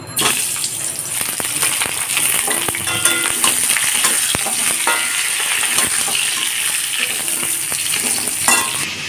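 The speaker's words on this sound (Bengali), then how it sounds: "পটলগুলোকে এখন ভেজে নেব" Sliced pointed gourd (potol) fries in a pan with a steady, close oil sizzle, broken by frequent metallic clinks and scrapes of stirring, with no talking.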